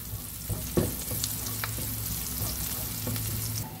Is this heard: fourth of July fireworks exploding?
no